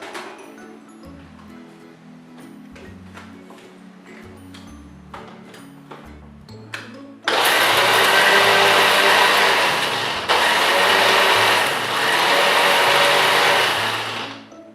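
A mixer grinder blending chopped onion starts up loud and near at about seven seconds, a dense roaring whir with a brief dip, after quieter clicks and taps.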